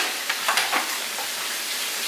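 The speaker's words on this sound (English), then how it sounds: "I'm just frying chicken." Chicken frying in hot oil gives a steady bright sizzle with a few short crackling pops, close by and continuous.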